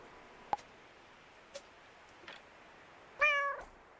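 A cat meows once near the end, clear and fairly close, amid a fishing game, preceded by a few faint ticks and clicks; no speech.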